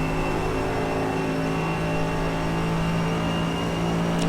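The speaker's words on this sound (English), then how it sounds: "As I was coming over the hill there, you heard the revs go up a touch" A Mercedes GT3 race car engine in the iRacing sim holds a steady high-revving drone with strong harmonic tones, continuous and loud throughout with no talk over it.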